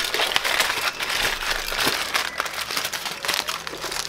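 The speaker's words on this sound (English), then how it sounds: "Putting foil in it now." Aluminium foil crinkles and crunches as it is folded into hair for home dyeing, a close, continuous rustle of irregular crackles lasting the whole stretch with no talk.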